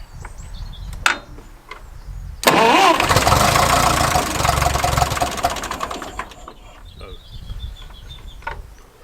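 Classic Ford Thames E83W van, long stored in a dilapidated old garage, cranked with choke and throttle: a few clicks, then a loud whirring starter crank lasting several seconds that fades without the engine catching, followed by more small clicks.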